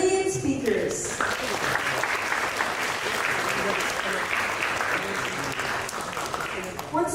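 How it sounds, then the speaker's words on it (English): Sustained audience applause at a university SDGs summit opening, a dense steady wash of clapping from a large crowd that starts abruptly and holds evenly for several seconds before easing slightly. "please give a big round of applause to our brilliant speakers."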